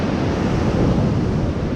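Ocean surf at San Simeon Beach, a kelp-covered shore, rolls as a loud, steady broadband wash with wind buffeting the microphone throughout and no voices.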